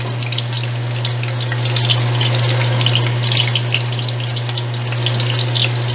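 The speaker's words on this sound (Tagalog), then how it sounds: "isusunod na natin ang patatas. Prito rin po natin." Steady crackling sizzle of potatoes frying in hot oil, close up, with a constant low hum underneath.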